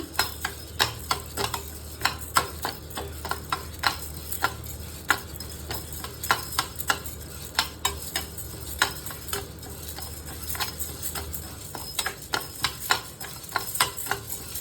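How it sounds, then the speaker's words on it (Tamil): Urad dal being dry roasted in a pan for murukku, giving a steady series of light scraping and ticking stirring strokes, close and fairly quiet, with no talking. "உளுந்து அப்படியே லேசாக வறுத்துக்கலாங்க."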